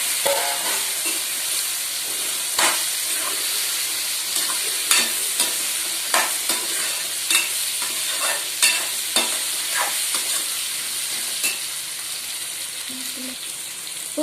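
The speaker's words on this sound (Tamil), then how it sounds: "கட் பண்ணி வச்சிருந்த பூசணிக்காய் சேர்த்துக்கலாம்" Chopped pumpkin sautéing in a pan with onion and tomato, a steady close sizzle broken by repeated scraping stirs of a spatula against the pan, with no voices.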